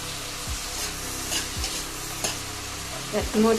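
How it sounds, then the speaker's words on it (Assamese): Onions frying with turmeric in a pan on a village kitchen stove, a quiet continuous sizzle broken by a few spoon knocks and scraping stirs, growing busier toward the end. "অলপ ভাজা কৰোঁ পিঁয়াজৰ লগত"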